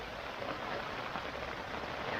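Rain falling at a campsite during a motorcycle camping trip, a steady, even hiss of drops with no breaks, fairly quiet and uninterrupted by talk.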